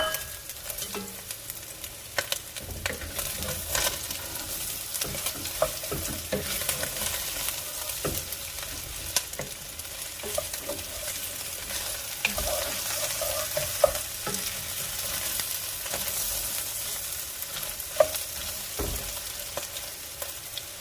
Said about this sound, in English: I'm going to add garlic and the potato. Just give everything a stir.